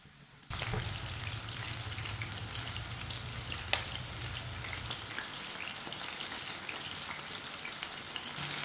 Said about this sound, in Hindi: इसे 3 मिनट के लिए फ्राई होने देते हैं।